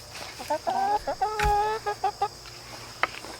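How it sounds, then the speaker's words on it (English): A farm rooster clucks up close in a quick run of short, throaty calls, then pauses before one last brief note. "the rooster that I locked up, so let's let him out"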